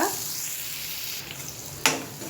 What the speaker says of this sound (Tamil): கொஞ்சம் நேரம் இதை அப்படியே வதங்கட்டுங்க